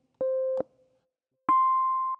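Two clean synthetic notes played from Ableton Push MIDI controller pads, a lower tone followed after a pause by a higher one, each held about half a second, quiet and isolated.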